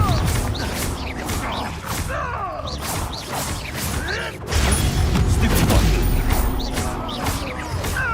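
A Confringo blast curse in a Harry Potter video game erupts with a loud, booming burst about halfway through, following earlier creaks and whooshing spell effects amid a busy fight.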